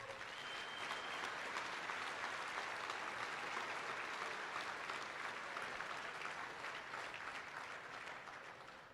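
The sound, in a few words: applause for livestock commission firms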